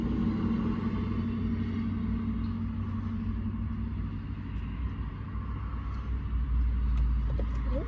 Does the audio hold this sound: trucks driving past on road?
yes